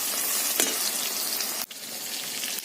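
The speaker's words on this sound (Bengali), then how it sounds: "পেঁয়াজটা ভাজা ভাজা হয়ে গেছে এবার আমি টমেটোটা দিয়ে দেবো এর মধ্যে" Tomatoes added to onions already frying in a pan give a steady, close sizzle, broken by a brief sharp crackle when they hit the hot oil and a short dip midway.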